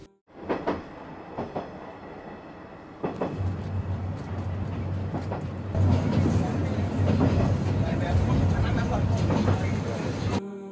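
A passenger train on the Dhaka-Mymensingh railway rumbles along with a low steady drone and rhythmic wheel clatter, heard from inside a carriage with people talking.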